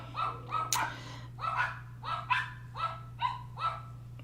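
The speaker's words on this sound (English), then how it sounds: "Oh, the dogs. I have dogs." Several household dogs bark in a quick, irregular series of sharp yaps, fairly close and moderately loud over a steady low electrical hum, with no talk.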